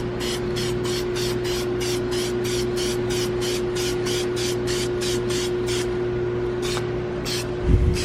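Rapid bursts of aerosol spray paint hiss across a Toyota 1JZ engine, about a dozen short evenly spaced sprays over a steady background hum, ending in a brief louder clatter.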